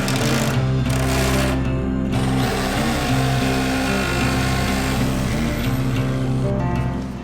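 Drilling holes through the bottom of an outrigger sailing canoe hull, a steady, loud mechanical whine with a droning low hum that runs without a break for several seconds, close by.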